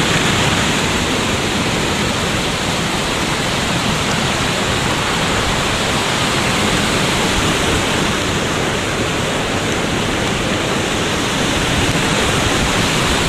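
Steady rushing water fills the whole stretch, a constant broadband roar of small cascades pouring into a lake at Plitvice, Croatia, with no voices or pauses.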